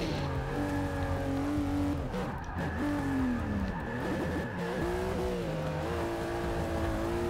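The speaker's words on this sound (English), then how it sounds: "That was an okay drift." A car in the racing game Forza Motorsport 6 drifts with a long, continuous engine drone and wavering tire squeal, steady and loud throughout with no talking.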